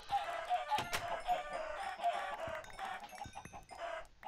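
Chickens in the Minecraft video game cluck and squawk in a close, busy burst of repeated calls mixed with short clicks, with no voices.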